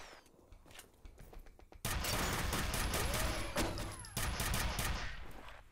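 Machine gun fire in F.E.A.R., starting with a few separate shots, then a dense, loud, sustained burst of rapid automatic fire with clanking mechanisms and a brief break partway through, without speech.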